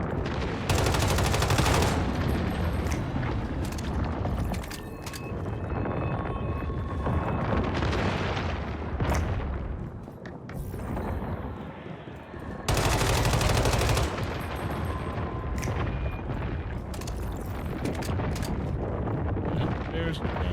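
Sustained gunfire from the Once Human video game, dense rapid bursts that run continuously with a short lull around the middle before resuming loud and close.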